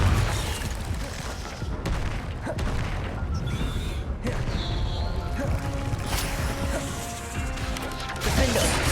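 Blasting-spell explosions from the Hogwarts Legacy video game: a dense run of crashing booms and impacts, loud and continuous, with a sharper burst near the end, over game music and effects.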